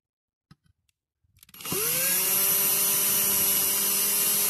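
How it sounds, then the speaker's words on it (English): Power drill during the final touches of a full restoration of a Dinky Toys No. 417 Ford Transit model, spinning up after a few faint taps and then running steadily and loudly with a constant whine. "it's got a final little touch with a drill."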